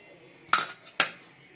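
A metal lid is set down on a cooking pan holding a freshly made chhana and besan curry, giving two close, sharp clanks about half a second apart in an otherwise quiet kitchen.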